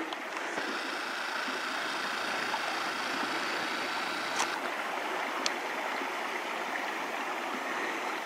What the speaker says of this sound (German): Schaut euch mal hier diesen wunderschönen Wasserlauf an.